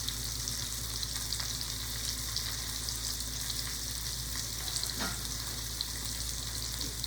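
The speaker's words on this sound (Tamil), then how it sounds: "தேவையான அளவு உப்பும் போட்டு வதக்கிடலாம்." Chopped tomatoes with turmeric powder and salt sautéing in a hot pan, a steady close sizzle and fry with faint stirring scrapes, no talking.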